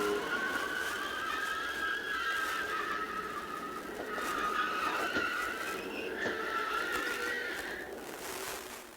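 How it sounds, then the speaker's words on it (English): From inside a NASCAR race car at the 1998 Daytona 500, a loud engine drones and whines steadily, its pitch sliding up and down as it shifts gears under the roar of the track. "Inside John Andretti's car for this look."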